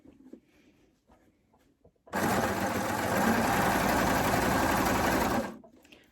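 A sewing machine hems a knit T-shirt, starting abruptly after quiet handling noises and running in a steady, fast, loud whir for about three seconds before stopping.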